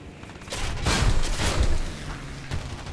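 Gunfire and explosions from the War Thunder video game rumble in a short burst, a dense booming volley that swells and fades with a few sharp reports and no speech.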